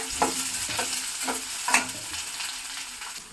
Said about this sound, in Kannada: ಅರ್ಧಂಬರ್ಧ ಫ್ರೈ ಆಗಬೇಕು. ಆವಾಗ ಸೊಪ್ಪಾಕಿ ತಿರುಬೇಕು